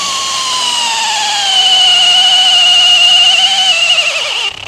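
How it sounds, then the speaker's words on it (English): Milwaukee brushless Gen 1 drill set to drill mode, running as a loud, close, steady high whine that rises slightly in pitch and holds before cutting off. "now we got Milwaukee brushless."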